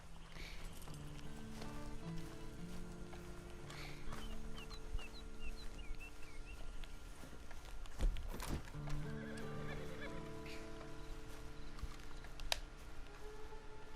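A horse neighs and whinnies among clucking chickens and clip-clopping hooves in the video game Red Dead Online, a busy farmyard scene with occasional sharp clatters.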